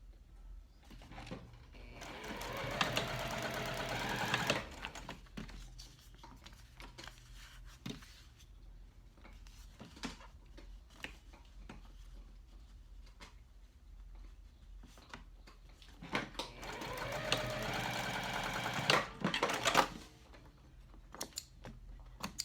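A sewing machine chain stitches along the bottom of a cork wallet card slot in two bursts of fast, steady whirring, separated by quiet handling noises and light clicks.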